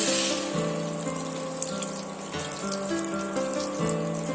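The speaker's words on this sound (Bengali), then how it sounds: "এবার আমি গ্রেভির জন্য এখানে একেবারে পানিটা অ্যাড করে দিচ্ছি" Water is poured into a pan of potato and soybean curry to make the gravy, giving a continuous splashing, gushing flow over steady cooking noise.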